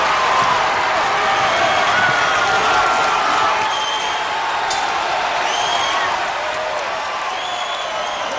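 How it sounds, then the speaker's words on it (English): Boxing arena crowd in the closing seconds of a Brandon Cook vs Chris Aucoin bout, loud sustained cheering and applause with scattered whoops, steady and close throughout. "The crowd absolutely loving it."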